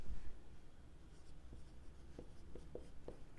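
Pen or chalk scratches out short strokes during a Class 10 algebra lesson on tax invoices, with soft intermittent taps and scrapes growing more distinct toward the end, heard alone without talk.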